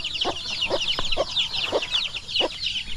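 Chickens cluck in short, repeated bursts inside a netted backyard pen, with a steady layer of high peeping from chicks running underneath. The sound is close and continuous, with no talking.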